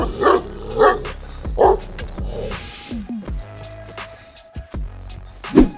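A large Rottweiler-type dog of the Roholmer breed barks loudly in short, deep bursts close by, then gives softer whining yelps and a final bark.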